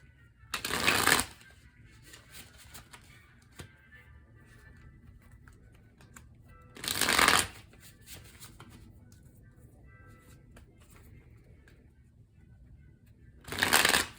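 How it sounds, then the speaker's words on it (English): Tarot cards are shuffled in three short, crisp bursts spaced several seconds apart, with quiet room tone and faint rustling in between. "I'll go ahead and begin shuffling."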